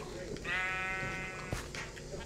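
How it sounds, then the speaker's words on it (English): Sheep bleating in a farming video game, with one drawn-out, wavering bleat at moderate volume, followed by a brief knock and faint background sounds. "Look at these ugly sheepy boys."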